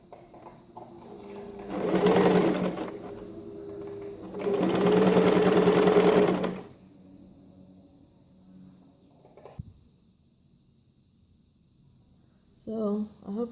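An Empisal sewing machine stitching with a twin needle runs in two bursts of steady motor whirr, each about two seconds, separated by quiet, followed by faint handling clicks.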